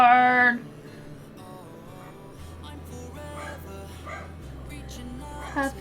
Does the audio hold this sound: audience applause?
no